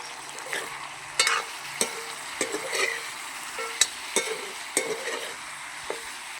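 Broiler chicken cooks in a pan after turmeric is added, with a soft steady sizzle broken by regular sharp scrapes and taps of a spatula stirring, close up.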